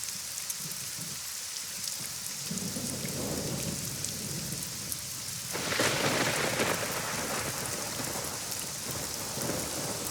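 Steady heavy rain with rolling thunder in the video game AI: The Somnium Files, a continuous loud downpour with a deep rumble building and a sharper thunder crack partway through, with no voices.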